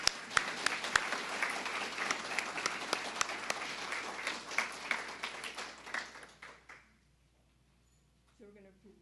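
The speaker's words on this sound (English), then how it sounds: "So give them a applause." An audience at a literacy program graduation applauds new United States citizens with sharp, sustained clapping that tapers off around the six-second mark into near silence, before a voice begins speaking.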